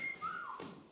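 A single whistling sound effect, with a short level tone that slides up and then drifts down, soft and brief, alone with no talk.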